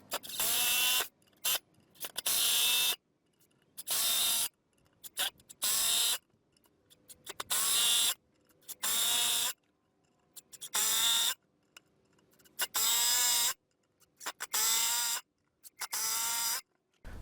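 A Skil 12V cordless drill drives a run of screws in roughly ten separate bursts, each a loud, whining motor spin lasting about a second, with short quiet pauses between them.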